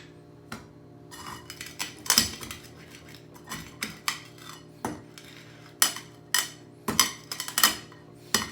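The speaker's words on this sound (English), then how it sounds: "Just rub the edge of the pot onto the peppercorns, and you will hear them crack." The edge of a metal pot rubbed over a tablespoon of black peppercorns, giving repeated sharp metallic crunches and clinks at an irregular rhythm over a faint steady background hum, close and fairly quiet.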